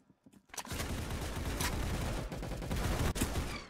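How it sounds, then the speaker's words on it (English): Rapid gunfire in the Roblox game Arsenal: after a few soft sounds, a sustained burst of shots rattles on continuously, loud and close, with brief sharper cracks standing out. "How did none of those shots hit?"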